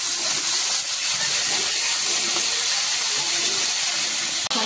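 Fenugreek greens dropped into hot oil with chillies in a pan give a loud, steady hiss of steam and frying sizzle throughout, with a brief break near the end.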